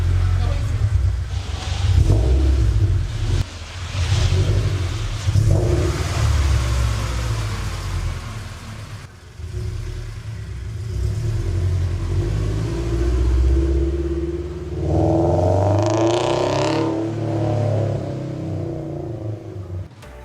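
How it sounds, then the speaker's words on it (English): A naturally aspirated car engine running without its Edelbrock part rumbles loudly and deeply throughout, with a few throttle blips and a rising rev near the end, and voices briefly audible over it. "Oh yeah, that rumble's back."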